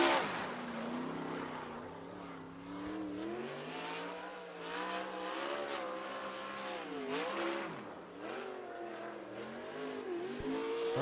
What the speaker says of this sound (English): Green flag is out for Schlockfeld as he works his way down the back straightaway into turns 3 and 4.